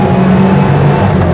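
A Land Rover Lightweight engine at full throttle, a loud, steady, close-up drone with a rough low rumble.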